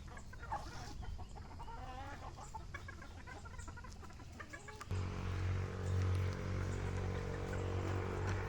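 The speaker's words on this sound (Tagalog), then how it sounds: "magpatuka ng mga manok dito sa range area" Several gamefowl chickens cluck and chatter up close while being fed in a range area, busy and overlapping, over a steady low hum of farm machinery that grows louder partway through.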